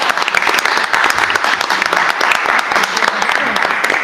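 A roomful of people at a doctoral thesis defense claps steadily, dense and sustained throughout with no pauses.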